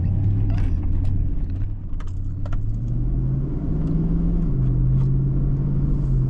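A Hummer H2 cruises along a road at about 35 mph, its engine and road noise giving a steady, loud, low rumble with a slowly shifting drone and faint rattles inside the cabin.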